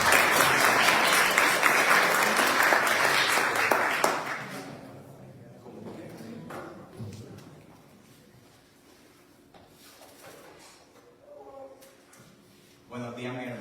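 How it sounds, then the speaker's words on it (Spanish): Church congregation applauding to welcome pastor Miguel Rodríguez: dense, loud clapping for about four seconds, then fading to a few scattered claps and quiet room noise. "Vamos a recibirlo con un aplauso para él."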